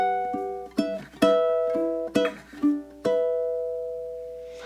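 A ukulele plays measure 5 of a song as a slow melodic phrase of plucked notes and chords. Each note rings and decays, played close and alone, with the last chord left to fade.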